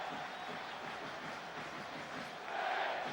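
A sellout football crowd at the Madejski Stadium for Reading versus Arsenal makes a constant broad roar and murmur, distant and steady, swelling a little toward the end.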